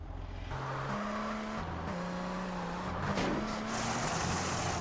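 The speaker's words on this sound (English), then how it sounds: "Sometimes it makes the car scraping noise, but it doesn't actually count as damage" Car in GTA San Andreas: a droning engine note climbs and shifts in pitch, with a harsh scraping, skidding burst near the middle and ongoing road noise, no talking.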